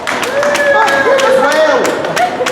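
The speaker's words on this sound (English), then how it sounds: "A round of applause for William." Street crowd in Edinburgh clapping for a dancing skeleton performer, a short burst of scattered applause mixed with cheering and whistling voices close by.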